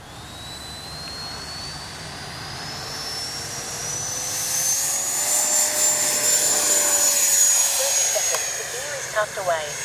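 A Freewing 90mm Eurofighter Typhoon RC jet flies overhead, its ducted-fan whine rising steadily in pitch and growing louder as it climbs and passes, with faint voices in the background.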